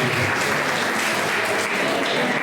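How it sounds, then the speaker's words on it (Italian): Dense, even applause from an audience at an Italian poetry award ceremony as a poet's honourable mention is announced, loud and continuous with no pauses. "Un applauso a Piero"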